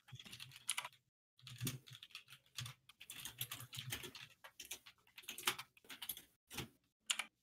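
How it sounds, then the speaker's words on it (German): Loud mechanical computer keyboards clatter in rapid bursts of typing, dense overlapping keystrokes with brief pauses between flurries, close and continuous for several seconds. "Alle so laute Tastaturen."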